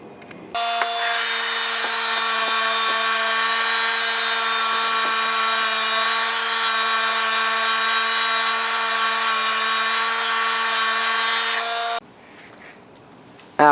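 A steady, loud abrasive rubbing or power-sanding drone as lacquer is stripped from the old wooden handle of an engineer hammer in a blacksmith workshop. It runs continuously for about eleven seconds, then stops abruptly.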